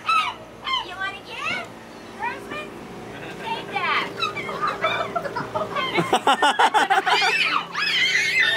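Seagulls at a clambake in Scarborough, Maine call in repeated shrill cries as they are fed, close and loud, mixed with children's and adults' voices talking throughout.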